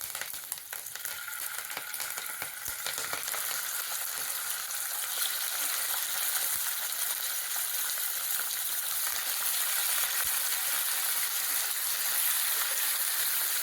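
Chicken pieces rubbed with turmeric and salt fry steadily in hot oil, giving a continuous close sizzle and crackle with occasional small pops, no voices.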